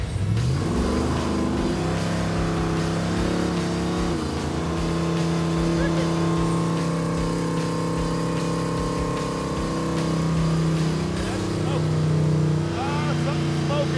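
A Hemi-swapped Gremlin, the Hemi Gremmie, runs off-road with a loud, close, rough engine drone that holds and rises in pitch, then surges again toward the end, while voices speak over it.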